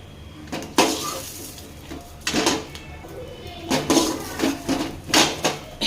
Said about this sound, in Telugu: ఇది వేగినాయండి, దీన్ని వేరే ప్లేట్లోకి షిఫ్ట్ చేసుకుందామండి.